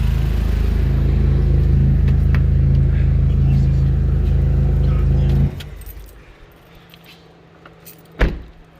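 A Chevy Cruze engine idles with a steady low rumble, then shuts off abruptly partway through, leaving quiet with faint keys and a brief clunk near the end.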